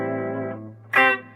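A sustained, clean electric guitar note with a little reverb rings with a smooth reverb tail, followed by a brighter strummed chord that fades out.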